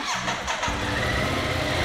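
A Ducati Multistrada V2S motorcycle engine cranks briefly and catches, settling into a steady, close idle with a low throbbing rumble.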